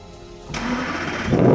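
An Aston Martin DB9 engine cranks and fires at about half a second, then holds a steady mid-pitched idle before swelling louder near the end, close and alone.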